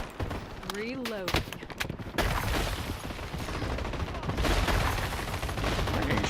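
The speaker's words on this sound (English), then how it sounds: "Where are you getting shot from?" Bursts of video game gunfire crack in rapid volleys, dense and loud, with continuous shooting and a sustained rattle later, while a voice talks over parts of it.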